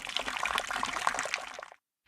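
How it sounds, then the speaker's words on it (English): Water trickles and splashes in an anime scene, a steady bright gurgling flow that stops abruptly, followed by a short burst of sound after a brief silence. "There's some water."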